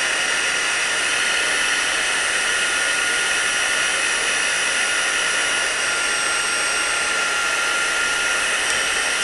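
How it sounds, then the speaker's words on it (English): Heat gun style dryer blowing steadily while melting white embossing powder for a craft background, a loud unbroken whooshing roar with a high whine, close and continuous with no talking. "Sorry about the dryer."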